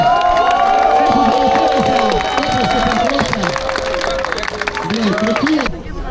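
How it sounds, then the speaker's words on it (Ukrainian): Spectators at a mass-start mountain bike race cheer, shout and clap loudly and continuously, with excited voices and whistles layered over the crowd noise. "Оплески, максимальні оплески."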